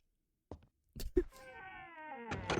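A cat character in a Harry Potter video game gives a drawn-out, wailing meow after a few soft taps and footsteps, close and clear and fairly quiet.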